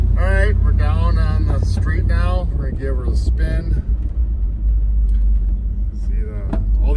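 A 1960 Chevrolet Impala convertible with a 348ci Tri-Power V8 drives down a street, its low engine rumble running steadily beneath someone talking throughout.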